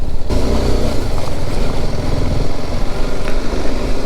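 A BMW G310GS motorcycle riding from Duggadda toward Kotdwar after a stretch of slushy road, its engine droning loud and steady at close range with continuous road and wind roar and no break.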